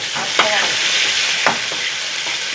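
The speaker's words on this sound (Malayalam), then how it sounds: "ഉള്ളി മൂത്ത് വന്നു ഉണക്കമുളക് ഇട്ട് കൊടുക്കട്ടോ പച്ചമുളക്" Dried red chillies dropped into onions frying in hot oil, giving a loud, continuous sizzle with a few sharp crackles as they are stirred.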